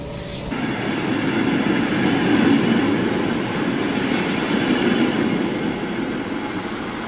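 A train rumbles steadily close by in the South Harz region near Niedersachswerfen, Germany, with a low continuous roar and rattle of rolling wheels that holds throughout.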